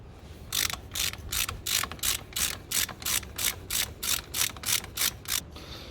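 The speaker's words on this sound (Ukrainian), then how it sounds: "Там уже одну відкрутив гаечку, сейчас стару там відкручую." A ratchet wrench cranks in steady, evenly spaced clicking bursts while a nut is unscrewed to remove a pump from a Case tractor out in a field, close and fairly quiet over a low background rumble.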